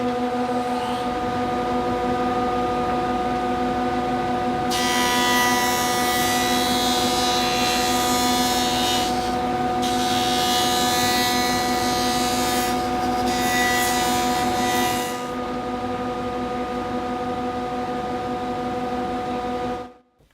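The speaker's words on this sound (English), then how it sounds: "Here at the joiner, I'm going to joint the edges of these boards, removing 1/16 of an inch with each pass." Woodworking jointer with a steady motor hum cuts the edges of wooden picket boards, taking about a sixteenth of an inch per pass; two bursts of noisy planing ride over the hum before the machine spins down, with no talk.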